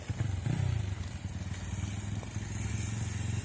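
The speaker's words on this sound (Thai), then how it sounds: "วิบากขี่รถเล่นกันตอนเย็น" Dirt bike being ridden in the evening, its engine idling and rumbling steadily at close range with a brief rev near the start, a continuous low motorcycle drone.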